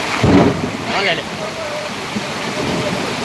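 A loud thunderclap rumbles over steady heavy rain, with a voice briefly audible nearby.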